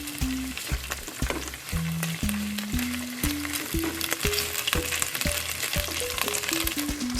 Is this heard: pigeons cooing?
no